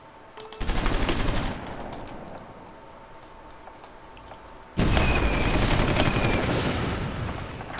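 Rapid bursts of gunfire rattle loudly in two long volleys, with booming explosions mixed in, from a battle in the strategy video game Supreme Ruler Ultimate.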